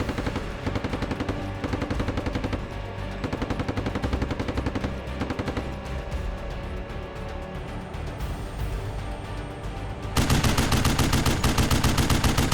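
Sustained machine-gun suppressing fire in a tank combat video game, dense rapid bursts running continuously and loudly throughout, swelling even louder near the end, with no talk over it.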